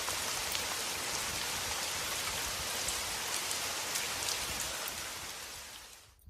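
Rain falls steadily in a video game, a dense even hiss of drops pattering on surfaces that stays loud and constant before fading out near the end.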